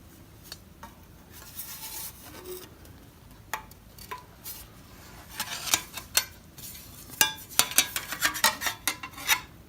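Repeated sharp metallic taps and scrapes sound while a groove is deepened in a metal armor knee piece, growing denser and louder toward the end.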